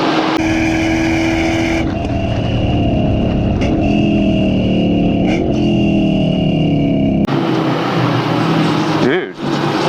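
A Corvette with a stock LS1 engine, making 340 horsepower at the wheels, driven hard. The loud engine drone rises and falls through several gear changes, heard from inside the car, with voices talking over it.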